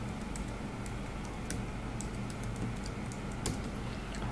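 Soft, steady clicks of a computer keyboard tap out text in Photoshop, a run of light keystrokes under a constant background hiss, no speech.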